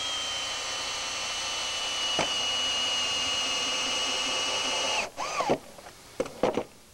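A power drill drives Torx head screws into a wooden plate on log furniture, giving a steady high motor whine that runs for several seconds. It ends with the drill winding down and a few short bursts.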